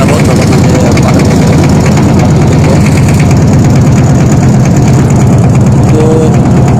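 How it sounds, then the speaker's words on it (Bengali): A trawler boat engine drones steadily and loudly while the boat crosses the Dhaleshwari River at Kharakandi, a close, continuous low rumble with no break. "ট্রলারে যাবো, ট্রলারে পার হবো"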